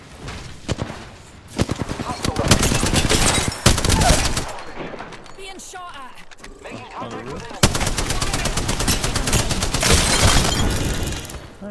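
Intense Apex Legends gunfire, likely the Spitfire machine gun, with sustained rapid bursts and overlapping shots filling the scene, briefly easing mid-clip before heavy firing resumes, loud and close.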